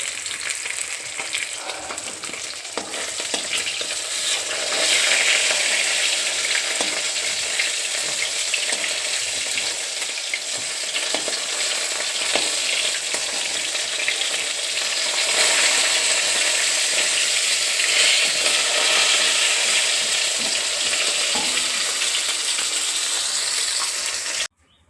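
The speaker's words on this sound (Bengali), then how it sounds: "আর মাছ ভাজা হচ্ছে আর কি" Fish frying in hot oil in a home kitchen, a steady loud sizzle and crackle with spattering oil running continuously for about twenty-five seconds, with no talking.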